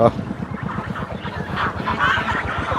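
A flock of domestic geese honks nearby in rapid, overlapping calls, loud and continuous, with a busy outdoor village background on a cold day after rain.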